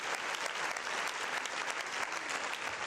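A church congregation claps loudly and steadily, dense applause filling the space without a break, no voices rising above it.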